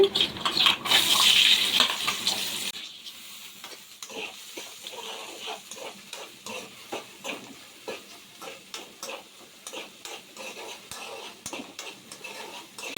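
Chopped onions sizzling in hot oil with cumin while egg puff filling is cooked, a soft steady frying hiss with light stirring clicks and scrapes at close range, louder at first and then settling lower.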